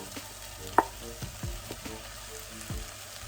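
Boiled potatoes being stirred into a sizzling frying mixture in a pan. Soft steady frying hiss with scattered scraping stir knocks and one sharp clink near the start, no voices.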